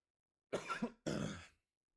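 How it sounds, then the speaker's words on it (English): Two short, harsh coughs in quick succession, close and fairly quiet, with silence around them. "I choked on something earlier and I've been coughing now"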